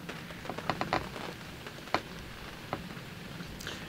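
Rain falls steadily on a croquet lawn during a semi-final session of the Association Croquet World Championship, a soft continuous patter with a few sharp ticks scattered through it.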